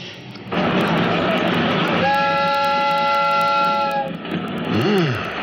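A steam train pulls in for a radio play effect: steady rumbling chuff, then a long clear multi-tone steam whistle for about two seconds, ending with a brief rising-falling squeal, all fairly loud with no talk.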